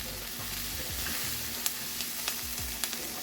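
An onion, tomato and ground sausage mixture sizzles steadily in a pan while a spoon scrapes through it in a handful of sharp strokes, close up and alone.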